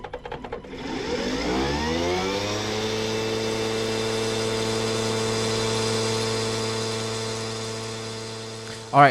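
A homemade 1000-watt electric motor spins up on a dynamometer, its whine rising in pitch over the first second, then holding a steady tonal hum with strong harmonics before a brief thump at the end; no talk.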